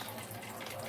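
Blended green sambal liquid strained through a sieve, a short continuous trickle and splash of liquid, close and soft, lasting under a second.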